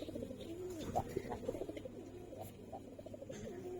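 Silver Giribaz pigeons of an old breed coo softly and repeatedly, the low rolling calls overlapping in a quiet, close loft with no clear speech.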